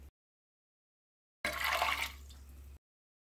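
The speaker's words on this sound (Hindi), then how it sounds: "इसमें 2 कप पानी डालना है।" Water pours into a pot of kidney beans with bay leaf, cinnamon and salt in a single steady splash lasting about a second, with a brief burst at the start and a quieter trickle as it ends.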